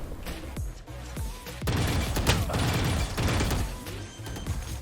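Gunfire in the tactical shooter Valorant on the Icebox map: a burst of sharp shots early, then dense, continuous loud firing and impact crashes through most of the stretch, with no talk.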